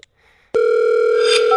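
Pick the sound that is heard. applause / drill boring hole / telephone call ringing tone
telephone call ringing tone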